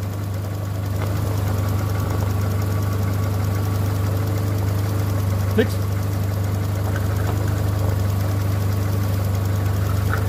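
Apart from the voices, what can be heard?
old car engine idling smoothly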